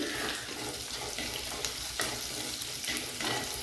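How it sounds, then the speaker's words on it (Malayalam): Sliced onion sautéing in a pan makes a continuous moderate sizzle, broken by frequent scraping stir strokes that come through as short sharp bursts. "അപ്പം നമുക്കിതേ സവാള ഒന്ന് നന്നായിട്ടൊന്ന് വഴറ്റിയെടുക്കാം"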